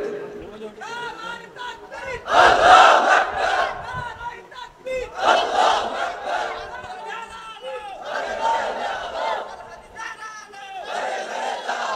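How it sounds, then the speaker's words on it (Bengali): A crowd at a Bangla Islamic religious sermon shouts a takbir chant in loud, massed bursts that swell and fade in waves, voices overlapping in a collective roar. "কারা কারা একটু তাকবীর বলেন, একদম নেতৃত্ব দেন।"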